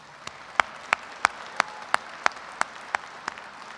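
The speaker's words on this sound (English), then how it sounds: "let's have a round of applause for all our PhD graduates" Audience at a fall engineering commencement ceremony applauds PhD graduates, with sharp, evenly spaced claps standing out clearly over a softer bed of scattered clapping, loud and close, with no talking.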